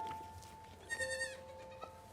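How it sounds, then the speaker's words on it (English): A goat gives a faint, brief bleat in the background amid quiet ambience, with a couple of thin tones and soft rustles around it. "Oh, it's a goat."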